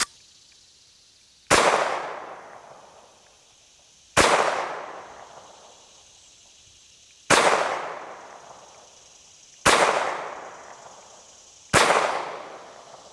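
A SAR B6 pistol fires 124 grain Federal ball ammunition at a range in five single loud, sharp shots spaced about two to three seconds apart. Each report is followed by a short echoing decay, and there is no talk.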